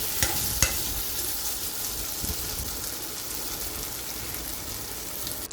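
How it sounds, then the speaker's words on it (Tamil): Diced potato sautéing with salt and turmeric in a pan, giving a steady, close hiss of frying with a few scraping stirs near the start; no voices. "ஒரு உருளைக்கிழங்கு சேர்த்துட்டு உப்பு மஞ்சத்தூள் போட்டு எல்லாத்தையும் நல்லா வதக்கி"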